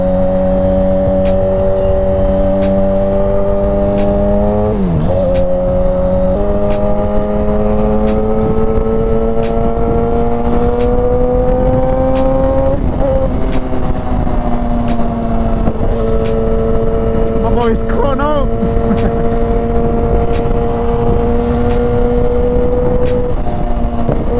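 A Yamaha R6 sport motorcycle revs hard while riding, its high inline-four engine climbing and dropping through gear changes with steady, loud harmonic tones and a few sharp blips, with no talking.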